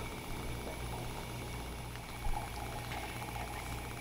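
Mangoes simmer in water in a covered pot, giving a steady, close bubbling and hiss that holds evenly throughout, with a faint low hum beneath and no voices.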